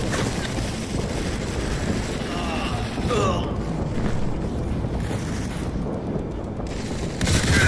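Gunfire in the Modern Combat 4 video game, a dense, continuous volley of shots with booming bursts and a steady crackling wash throughout, heard close and loud with a voice shouting over it.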